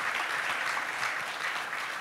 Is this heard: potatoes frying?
no